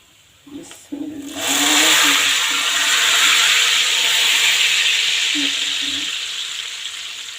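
A sudden loud hiss and sizzle bursts up and continues steadily, slowly fading, as hot tempering hits cooked moong dal; a brief thud precedes it.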